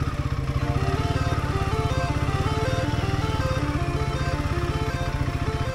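A motorcycle on a muddy off-road mountain track between Mangan and Lachung in North Sikkim gives a close, loud, steady engine throb with an even pulsing rhythm, no speech over it.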